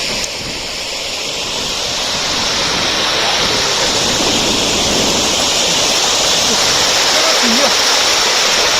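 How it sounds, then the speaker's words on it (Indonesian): Loud, steady rushing of a small waterfall close by, a continuous broadband roar that swells slightly and holds, with a voice barely audible beneath it. "Oke, kita lagi ada di air terjun mini"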